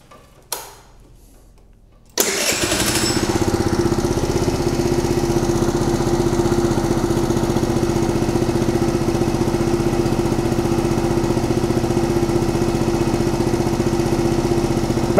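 A scooter engine on a bench for service catches after a couple of faint starter clicks and settles into a loud, steady idle with an even ticking rhythm, running alone without any talk.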